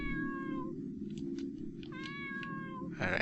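A cat in the video game Space Pilgrim Academy Year 1 meows in drawn-out, wavering calls, several in a row, over a steady low background hum of game music.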